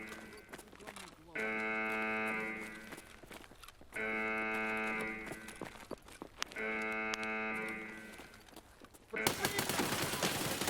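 Gunfire in the video game Escape from Tarkov: sharp shots and bursts between long buzzing tonal stretches, moderately loud, ending in a harsh noisy burst.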